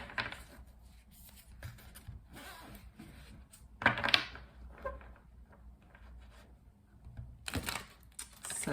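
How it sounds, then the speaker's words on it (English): Tarot cards from a Light Seers deck shuffled by hand, giving quiet papery riffles and rubs in short bursts with a few sharper flutters, close and alone with no talk. "Let's continue by doing some shuffling so we can pull 4 tarot cards for the day."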